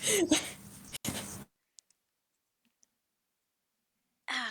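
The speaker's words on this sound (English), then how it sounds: "The sound of dice." Dice clattering across a table during a tabletop role-playing game, a short burst of rattling and clicking up front followed by silence with a couple of tiny ticks, then a last clatter at the end.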